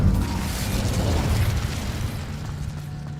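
A fire spell bursting into flame with a dense, rumbling whoosh that starts loud and slowly fades into a low, crackling roar, heard alone without speech.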